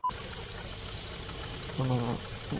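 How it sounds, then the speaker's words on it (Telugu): Water pouring out of a large tractor tyre while it is being inflated, a steady close wash of running water with a short tonal burst partway through. "నీళ్ళంతా వచ్చింది, పెద్ద టైర్కి గాలి కొడుతూ ఉన్నాను."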